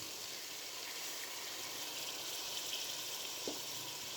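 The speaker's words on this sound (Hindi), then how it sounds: "अब मैं इसमें डालूँगी थोड़ा सा पानी।" Water poured into a pot of pea and carrot pulao with fennel and star anise, a faint steady hiss and sizzle that runs throughout, with a small splash near the end.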